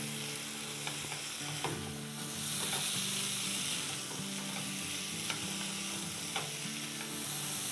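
Chicken with garlic, black pepper and salt sizzles in a frying pan while a spoon stirs it, scraping and clattering in an uneven rhythm close up, with no voices.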